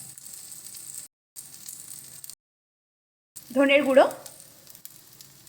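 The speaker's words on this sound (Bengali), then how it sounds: "সুন্দর করে এবার মশলা কষিয়ে নেব।" Spices frying in a pan for eggplant curry, a soft sizzle that cuts out twice. It ends in a short burst of speech over the frying.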